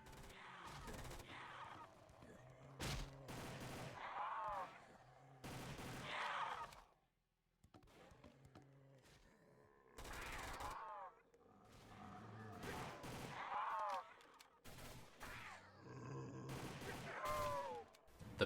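Rifle bursts in the Roblox game Project Lazarus, a three-round-burst weapon, crack out in sharp clusters separated by pauses, with a narrator's voice talking between and over the shots.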